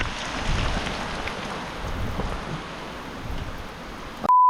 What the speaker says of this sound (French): Ah putain, il grêle.